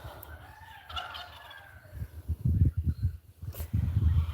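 Poultry gobble and call nearby in a backyard, low warbling bursts repeating in quick succession, loud and close.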